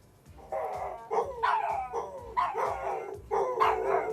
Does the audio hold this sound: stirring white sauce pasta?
no